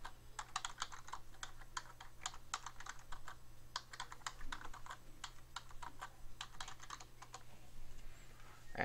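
Someone types on a computer keyboard, a quiet close run of clicking keystrokes in irregular bursts with short pauses, over a low steady hum and no speech.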